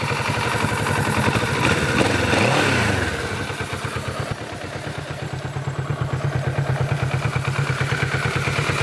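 A 2018 Kawasaki Z650 motorcycle engine revs up close, with a rising and falling throttle blip early on, then settling into a steady, throbbing run with a rhythmic pulsing exhaust note.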